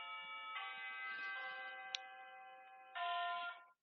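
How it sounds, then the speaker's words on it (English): New school bells ring in a classroom as sustained electronic chime tones. The tones shift pitch in a few steps and end with a louder final tone, heard alone at moderate volume. "Those are the new bells."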